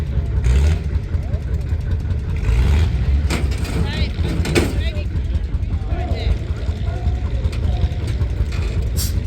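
A single-cylinder air-cooled Lister engine on a small bulldozer with a foot-operated blade, heard at an outdoor classic machinery show, running with a steady low rumble amid crowd chatter and background noise.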